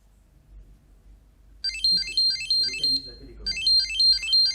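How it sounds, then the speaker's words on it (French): Google TV Streamer remote control ringing, a bright repeating electronic chime pattern starting partway in, pausing briefly, then resuming, fairly loud against a quiet room. "vous l'entendez, ma télécommande sonne bien"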